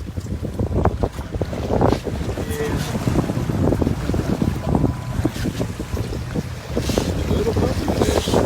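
Mako 334 CC offshore fishing boat running at sea off Fort Lauderdale, hull slapping waves amid steady wind buffeting the microphone, loud and continuous throughout.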